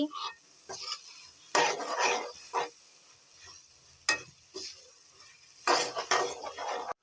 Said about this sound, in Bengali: তারপরে মটরের সাথে মশলাগুলা সুন্দরভাবে কষাতে হবে।